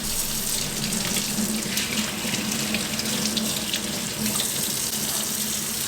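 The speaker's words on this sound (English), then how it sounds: "I'm gonna give them a quick rinse." Kitchen tap water runs steadily and fairly close while fish are rinsed under it, a continuous splashing hiss with slight fluctuations and no talk.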